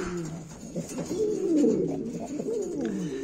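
Pigeons kept for breeding coo in a loft, overlapping low throaty rolling calls that swell and fade near the listener, with no speech.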